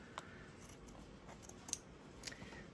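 Quiet close snips of scissors trimming fabric beside a zipper while sewing a lined zip bag, a few faint cuts spaced over a couple of seconds with no speech.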